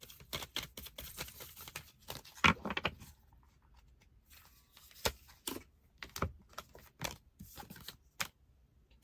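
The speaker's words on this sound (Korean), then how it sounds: "그러면 황소분들에게 필요한 조언 카드 뽑아볼게요." Tarot cards are drawn and handled up close in a quiet room, a scatter of soft slaps, shuffles and sliding card sounds with brief pauses between them.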